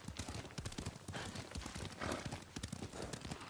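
Horse hooves clip-clopping in the video game Ghost of Tsushima: a rapid, steady galloping rhythm of hoof strikes, loud and continuous throughout.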